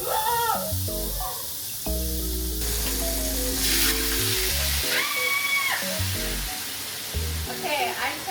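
Food sizzles and fries in a pan, a steady crackling hiss with intermittent stirring and clinking, and a cat-like meow briefly rising over it.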